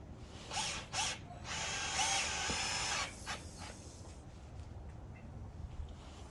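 A power drill drives screws while a Pikler climbing frame is assembled, giving short close whirring bursts followed by a longer run, then quieter handling noise.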